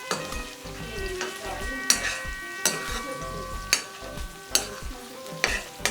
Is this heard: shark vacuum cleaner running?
no